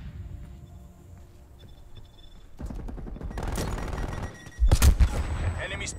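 Distant artillery fire and bursts of gunfire in the video game Call of Duty Black Ops Cold War, rising into a heavy rattling barrage with a sharp loud impact near the end, alongside brief radio-style game voices.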